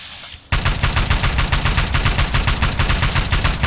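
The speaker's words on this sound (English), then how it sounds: "I'm gonna get my assault rifle out" Assault rifle gunfire in the video game Fallout 3, starting abruptly and continuing as a loud, sustained automatic stream of rapid, evenly paced shots close up, with no talk.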